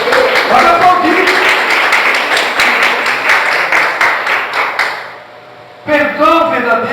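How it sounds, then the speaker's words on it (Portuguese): A church congregation claps together in sustained, dense applause that fades out after about five seconds, with a voice speaking over the start and returning once the clapping stops. "Pode aplaudir."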